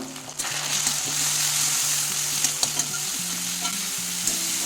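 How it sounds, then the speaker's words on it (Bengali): Spice paste with ground turmeric and salt frying in a pan for a bottle gourd and fish head curry, a steady close sizzle broken by repeated scrapes and knocks of a stirring spoon, with no talk. "মশলাটা একটু ভেজে নেব"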